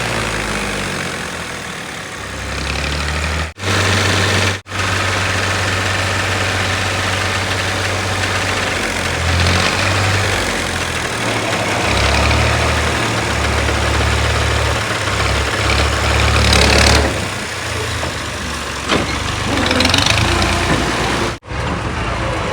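A tractor engine idles nearby as a trolley of soil arrives, a steady low rumbling drone with a few brief drops and surges in engine note across the clip.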